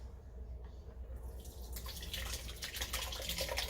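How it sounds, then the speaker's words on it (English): Apple cider pours through a fine mesh strainer, starting faint and swelling into a steady, splashy stream that stays close and continuous. "take a fine mesh strainer and we pour this through that"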